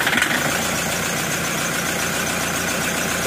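A Toyota Hiace engine runs steadily with a noisy bearing and belt. It gives a loud, dense, continuous mechanical drone and rattle close by, with no pauses.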